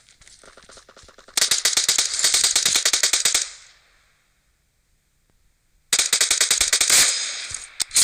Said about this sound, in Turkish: Aha bak orada bir çatışma var.